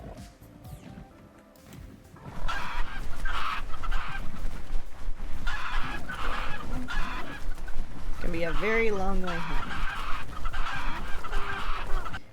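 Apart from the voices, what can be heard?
chickens squawking in a video game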